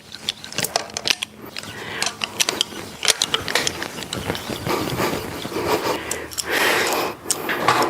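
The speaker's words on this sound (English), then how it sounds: "We should use our speed wrench. We're just going to snug each one of these down." A speed wrench clicks and ratchets close by as it snugs down bolts while an LS engine top end is assembled. The rapid, irregular mechanical ticking and rattling runs steadily throughout, with no talking.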